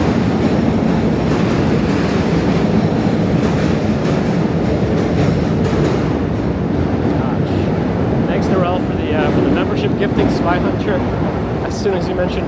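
A train rumbles loudly over a bridge in Manhattan, heard from underneath as a continuous heavy roar with rattling, clattering wheels, and faint voices near the end.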